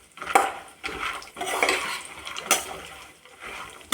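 Almonds and cashews stirred in buffalo ghee in a pan, with scraping and clinking of a utensil against metal in uneven bursts, close by, over a soft low frying hiss.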